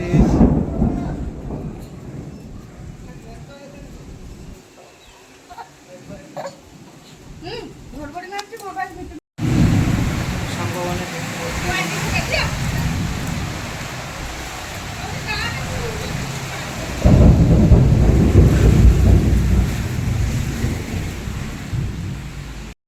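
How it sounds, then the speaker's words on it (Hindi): Heavy monsoon-style rain pours down with rumbling thunder, a dense loud roar of rainfall that drops briefly, then returns strong with a deep thunder rumble swelling near the end; a voice speaks over it at times. "आज बहुत वर्षा आईची"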